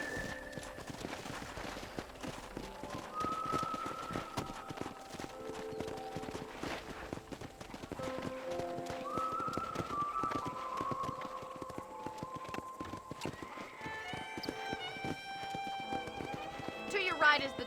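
Horse hooves clip-clopping at a run in the video game Red Dead Redemption on a ranch, rhythmic and fairly quiet, with people talking over it and occasional whinnies.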